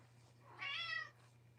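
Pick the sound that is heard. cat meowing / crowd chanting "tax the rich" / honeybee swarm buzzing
cat meowing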